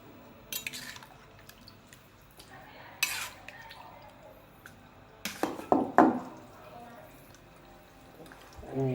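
Food is mixed in a bowl for a Lao pon dip with a little water added, giving scattered utensil clinks and scrapes, a few sharper knocks near the end, with soft background voices.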